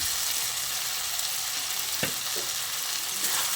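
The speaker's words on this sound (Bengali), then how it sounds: "এবার আলু আর সয়াবিনটা দিয়ে মশলার সঙ্গে খুব ভালো করে কষিয়ে নিতে হবে" Continuous hissing sizzle of fried potato and soybean chunks frying in masala in a pan, close and even, with a couple of soft scrapes from stirring.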